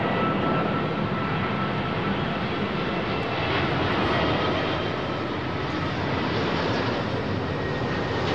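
An Airbus A380 jet at London Heathrow gives a steady, loud, broadband engine roar that holds evenly throughout, close and continuous with no talk.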